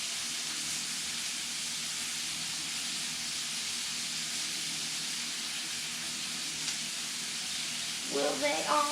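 Salmon fillets sear skin side down in a hot skillet, giving a steady broadband sizzle that runs close and even throughout, with a brief burst of voice near the end.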